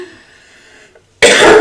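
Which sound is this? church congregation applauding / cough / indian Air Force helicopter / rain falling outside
cough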